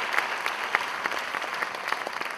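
An audience at the Deenanath Mangeshkar Smruti Pratishthan awards ceremony applauds in a steady, even wash of clapping, fairly distant and unbroken by voices.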